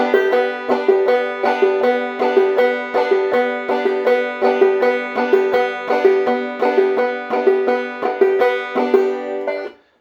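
Banjo picked in a bouncy clawhammer rhythm on the second string, crisp plucks and brushed strums repeating evenly for several seconds before stopping abruptly.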